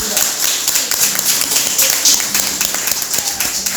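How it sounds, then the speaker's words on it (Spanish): A church congregation claps for the Lord in dense, sustained applause, many hands close and loud for several seconds, with voices mixed into the crowd. "Dale un fuerte aplauso al Señor"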